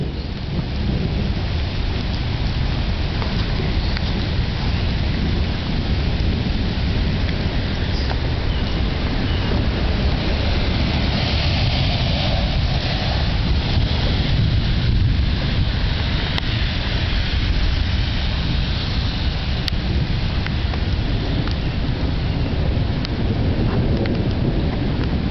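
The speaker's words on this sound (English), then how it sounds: "The rain just died down." Heavy rain pours steadily through a rainy night in Dallas while thunder rumbles low underneath, a loud, dense, unbroken wash of water with rolling booms and no talking.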